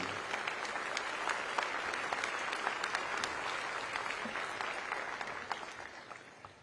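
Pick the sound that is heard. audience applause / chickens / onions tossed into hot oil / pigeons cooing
audience applause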